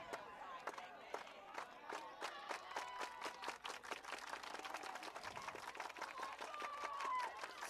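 Baseball crowd at a prep game clapping in a quick, steady staccato beat, sharp repeated claps carrying over a loud, murmuring stand throughout.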